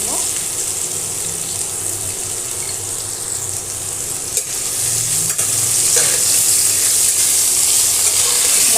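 Pointed gourd (potol), parboiled with salt and seasoned with turmeric, frying in hot oil in a home kitchen, giving a steady close broadband sizzle throughout with occasional stirring clatter.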